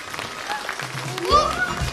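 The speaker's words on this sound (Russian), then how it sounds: "Аплодисменты!" Applause at a stage concert of a boys' vocal group, a broad crackle of clapping that swells in the second half, with voices and a high whistle or shout running over it.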